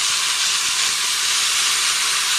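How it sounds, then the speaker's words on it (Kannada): Water poured into hot mustard-seed tempering in a pan for a cucumber curd bajji, giving a loud, steady, continuous steam hiss with no talk. "ಈಗ ಒಂದು 1/4 ಲೋಟ ಆಗುತ್ತೆ ನೀರು ಹಾಕೋಣ."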